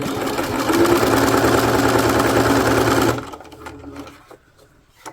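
A sewing machine runs at a steady fast pace stitching a fabric project bag, loud and close, for about three seconds before stopping, followed by quiet handling noises.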